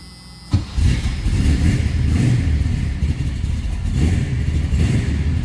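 A 1985 Chevrolet Camaro engine cranks and catches on a cold start, then runs steadily at a fast idle with a rough, rumbling tone, close by.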